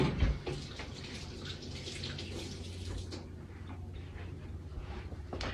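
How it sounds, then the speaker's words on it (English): Running tap water streams steadily into a sink as hands are rinsed under it in a farm kitchen, with a soft continuous splashing at moderate volume and a small clatter at the start. "Rinse my hands."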